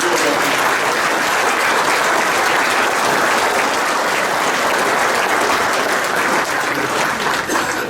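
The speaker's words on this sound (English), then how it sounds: "a round of applause for all of our inductees and all of our new inductees" A banquet audience at a softball hall of fame ceremony applauds its inductees with dense, loud, continuous clapping that holds steady for the whole stretch.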